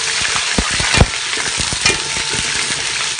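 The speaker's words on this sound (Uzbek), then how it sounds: "boshda go'shtdek narsalarni solib qo'ramiz" Meat sizzles and crackles steadily in hot oil in a cooking pot for a Uyghur dish, with a few louder pops and stirring scrapes, close and continuous with no talking.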